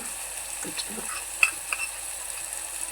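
Ginger garlic paste and red chilli powder frying for misal, a quiet continuous sizzle with a few soft stirring scrapes and light taps, close and even.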